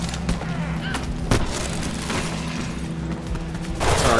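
Gunfire in Mirror's Edge Catalyst, scattered shots and a louder crack amid a busy, rumbling game soundscape with steady background hum, muffled voices faintly underneath.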